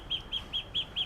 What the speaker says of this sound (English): That's my duck.